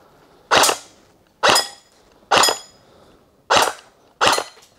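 Five sharp, loud shots from a G&G M1 Garand airsoft rifle crack out close by, spaced roughly a second apart, each with a short decay and quiet between.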